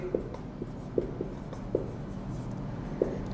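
Chalk or marker writing on a board during a physics lesson, faint scratchy strokes with occasional sharper taps, quiet and steady with no talking.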